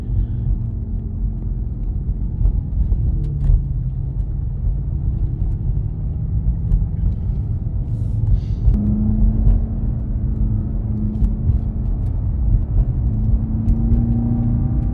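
A BMW X6 M Competition accelerates at low road speed, and its engine gives a steady, deep rumble from inside the car, with the pitch rising in a couple of stages as it pulls.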